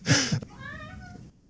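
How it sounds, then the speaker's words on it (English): A cat gives a single drawn-out, rising-and-falling meow close by, right after a brief burst of a person's voice. "Oh, yeah, that is a cat."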